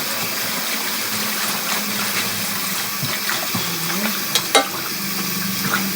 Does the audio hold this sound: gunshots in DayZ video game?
no